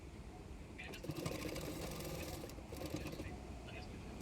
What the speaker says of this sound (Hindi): अभी मैं फिटिंग के लिए सिलाई करूँगी।